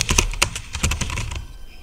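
Rapid keystrokes on a computer keyboard as text is entered into an Excel spreadsheet, about a dozen close, crisp clicks in quick bursts that stop abruptly, with no talking.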